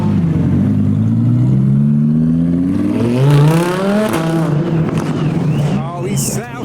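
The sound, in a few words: Audi R8 engine revving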